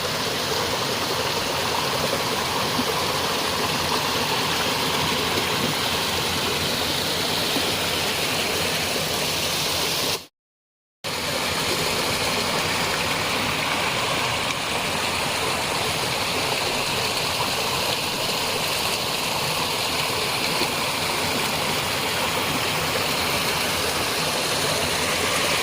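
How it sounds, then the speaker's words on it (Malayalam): Mamalakandam waterfall and its stream in Kerala pour in a steady, dense rushing roar close by. It continues without a break apart from a brief dropout near the middle, and no voices are heard. "ഞാനിപ്പോൾ വെള്ളച്ചാട്ടത്തിൻ്റെ ചുവട്ടിലാണ് നിൽക്കുന്നത്"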